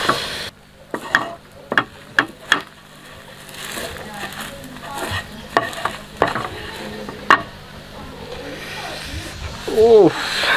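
Coca-Cola boiling down in a pan, with a low bubbling simmer punctuated by sharp stirring taps and scrapes against the pan, heard up close, and a voice chatting over the last seconds.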